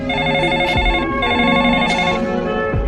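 A telephone rings with a bright repeating electronic tone, pausing briefly between bursts, loud and close.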